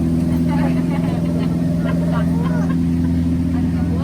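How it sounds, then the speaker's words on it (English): Steady low engine drone of a Disney Jingle Cruise ride boat running at a constant pitch throughout, with faint voices chattering in the background. "let's see how fast this boat can go"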